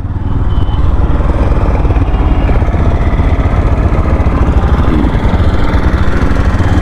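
Engine of a 2024 Yamaha FZS V4 motorcycle in second gear while riding, a loud steady close drone with a continuous throbbing pulse and no pauses.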